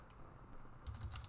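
A hostname typed on a computer keyboard during an Arch Linux install, a few faint isolated taps followed by a quick cluster of crisp, close key clicks.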